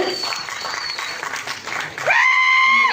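An audience claps at a Tamil film's music launch event, a dense burst of clapping under an announcer's voice, then a loud rising, sustained tone takes over near the end.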